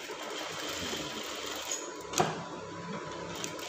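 A sewing machine stitching a brocade collar, a steady mechanical whir at moderate distance with a sharp click partway through and a short rattle near the end.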